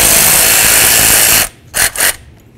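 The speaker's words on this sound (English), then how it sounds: "Now let's remove our flex hose mounting bolt right here." A ratchet-type tool removes the flex hose mounting bolt on a 1998-2002 Honda Accord during front lower ball joint work, giving a loud, steady mechanical whir for about a second and a half, then two short, sharp bursts.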